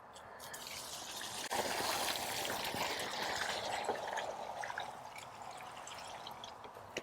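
Water poured from a 5-gallon bucket onto a garden bed, a steady splashing trickle that swells after a moment and then tapers off, close and fairly quiet with no talk.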